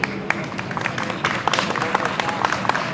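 Scattered clapping from a modest school board forum audience after a candidate finishes speaking, light and uneven, with a voice faintly present.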